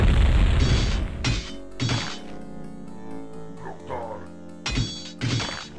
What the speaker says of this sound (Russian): меня катапульты разваливают?